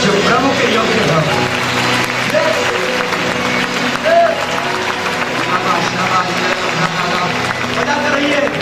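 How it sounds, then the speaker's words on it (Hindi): Congregation clapping during a Sunday service at Rajasthan Pentecostal Church in Udaipur, a loud continuous wash of applause with voices and worship sound mixed in throughout. "ऐसी ताली बजाएं जो प्रभु के योग्य हो।"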